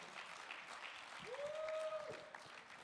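Applause at a conference business meeting, rising as a soft, steady wash of many hands clapping, fairly distant and faint, with a brief tonal sound in the middle.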